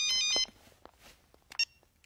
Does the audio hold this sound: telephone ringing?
yes